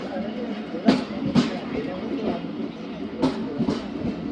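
The 46 Down Pakistan Express passenger train rolls past on the rails with steady rumble and repeated rhythmic wheel clacks at the rail joints, while someone talks over it.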